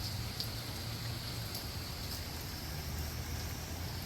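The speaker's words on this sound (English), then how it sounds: "Rain is, you know," Steady rain trickling during Hurricane Milton, a continuous wash of light patter with wind noise underneath, even and moderately distant with no voices.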